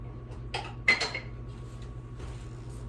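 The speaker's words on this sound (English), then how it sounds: "Keep stirring. Keep stirring. Don't have any lumps in here." A small 8-by-8 dish of au gratin sauce being stirred with a utensil, giving a couple of close clinks and scrapes against the dish with steady low hum behind, no talking.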